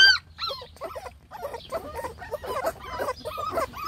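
Several puppies in an outdoor run whimpering and yelping for food, a chorus of high squeaky cries overlapping in quick bursts, close by with no talk.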